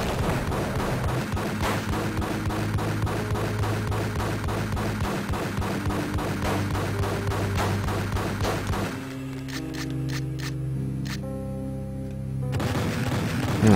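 Rapid, continuous bursts of booming gunfire from an automatic shotgun in Max Payne on Game Boy Advance, relentless and loud, with a brief lull before firing resumes.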